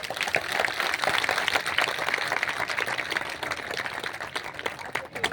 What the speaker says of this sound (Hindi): आप लोगों की तरफ से जोरदार ताली होनी चाहिए